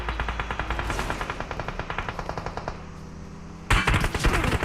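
Automatic gunfire from a gun in the mobile game PUBG Mobile, a long rapid burst of loud evenly spaced shots, a brief lull, then another hard burst.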